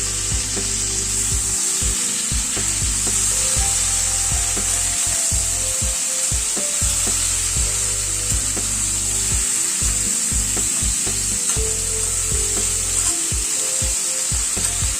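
Ridge gourd sizzling in hot oil in a pan with potato and pointed gourd, a steady bright frying hiss with repeated scraping knocks of a spoon stirring the vegetables, close and continuous.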